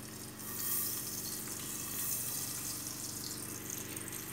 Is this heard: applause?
no